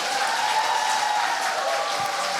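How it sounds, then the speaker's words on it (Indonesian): Applause from a church audience at a Lent competition fills the whole stretch, a dense, steady wash of clapping from a crowd. "tepuk tangan sekali lagi lebih meriah"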